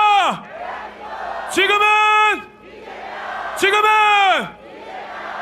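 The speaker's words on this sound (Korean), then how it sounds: "여러분 다시 한번 이재명 후보에게 큰 박수와 함성 부탁드립니다" At a final election rally for candidate Lee Jae-myung attended by some forty thousand people, loud amplified shouts rise and fall in repeated bursts over a background of crowd cheering and shouting.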